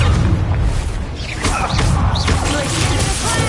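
A Confringo blasting curse explodes in the video game Hogwarts Legacy, a loud booming burst that rumbles with dense low-end noise. Spell effects crackle over it and a brief voice rises partway through.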